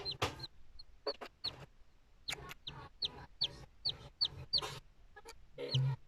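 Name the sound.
newly hatched chick peeping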